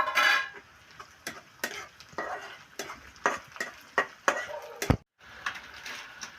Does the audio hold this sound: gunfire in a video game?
no